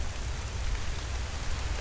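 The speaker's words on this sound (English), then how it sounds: "it's coming down with beating rain now" Heavy rain in the survival game Hold Your Own pours down as a dense, steady hiss with a low rumble underneath, continuous and even throughout, with no voices.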